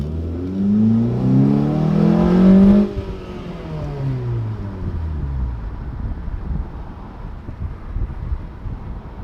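A car engine revs and climbs in pitch for a few seconds, loud and close as if from inside the cabin, then drops away to a lower drone with wind and road noise.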